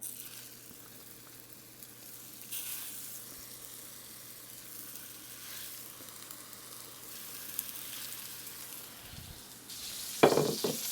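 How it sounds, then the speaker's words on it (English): Beef patties sizzle in a hot, oiled cast iron pan, a soft, steady crackling hiss held at low level throughout, with a brief sharper clatter near the end. "I've got a cast iron pan on the go here."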